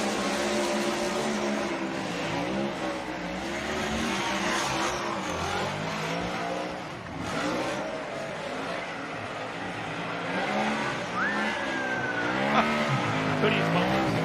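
A Pennzoil Ford Mustang RTR Spec 5D Formula Drift car slides around the OSW track, its engine roaring loudly and continuously with a squeal of tires, while voices are faintly heard in the background.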